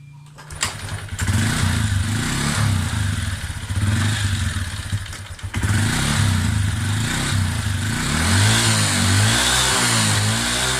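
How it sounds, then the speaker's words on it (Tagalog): A repaired motorcycle engine starts up and idles with a steady throb, then revs up and down several times near the end. "umandar na ang motorsiklo na to at napakaganda pa talaga ng tunog ng kanyang makina"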